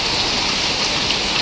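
Heavy rain pours down in Bangalore, a dense, steady hiss of drops hitting surfaces that holds at an even, fairly loud level throughout with no voices.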